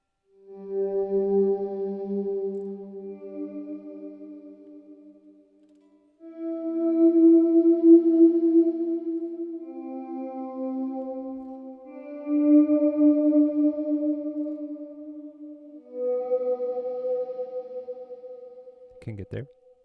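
An electric guitar runs through the Neural DSP Morgan Amp Suite with heavy ambient reverb. Four slow, sustained chords swell and fade one after another, their tails washing out long and spacious, and a brief scrape comes at the end.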